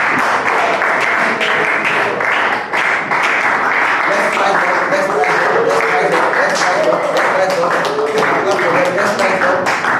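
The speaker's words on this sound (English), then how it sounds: "keep clapping for them. Keep clapping." A church congregation at a Sunday Bible school service claps continuously, a dense sustained round of applause lasting several seconds with voices and singing mixed in beneath.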